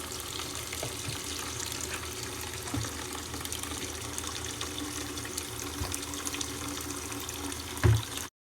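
Steady running water from a tap while an old wig is rinsed, a continuous close hiss and splash with a brief louder gush near the end.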